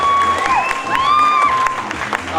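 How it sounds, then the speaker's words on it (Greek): An audience at an outdoor swimwear fashion show applauds and cheers in a sustained burst, with a host's voice carrying over the clapping. "Ένα χειροκρότημα για όλους δυνατό."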